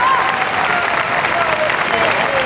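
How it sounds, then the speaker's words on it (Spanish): Sustained applause from an audience at a tribute ceremony in La Laguna, Canary Islands, honouring a Canarian wrestling (lucha canaria) figure; dense, steady clapping fills the whole moment, close and loud, with faint voices mixed in. "El aplauso de un público"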